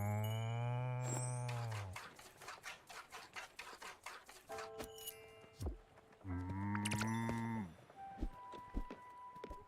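A cartoonish cow in a cooking video game gives two long, low, drawn-out moos, separated by a busier stretch of clicks, tapping and other game effects.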